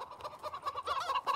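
A chicken gives short, repeated clucking calls, fairly faint and close, with a busy, slightly noisy background and no talking.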